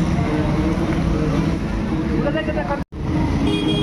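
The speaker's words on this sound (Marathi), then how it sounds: "ही बघा आपली गाडी आणली." A car brought round by hotel valet parking in Pune rumbles with engine and road noise under people talking, then cuts out briefly near the end.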